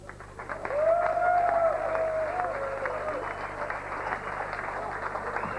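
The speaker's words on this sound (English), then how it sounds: "Give yourselves a round of applause." Audience at a live 1997 hardcore concert clapping and cheering in a steady, dense wash that swells early and holds, with a voice rising briefly above the crowd.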